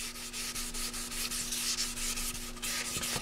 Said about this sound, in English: it's really, really handy to have one of these sanding tools to get in here